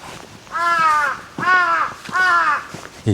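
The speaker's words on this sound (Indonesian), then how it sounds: "itu ada burung gagaknya" Three loud, drawn-out crow caws at a steady pace, close by in a quiet Japanese countryside village, with a faint click at the end.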